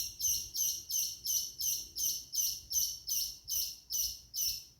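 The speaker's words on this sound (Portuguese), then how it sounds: "pássaro? Fazendo barulho aí." A bird chirps in a fast, regular series of bright bursts, each about half a second long, repeating steadily against a quiet background.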